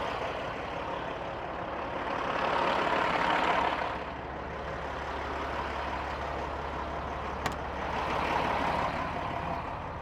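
A tractor-trailer truck slowly backs up toward a trailer, its diesel engine rumbling low and steady with surges in revving, a brief sharp hiss or clank near the end, no voices.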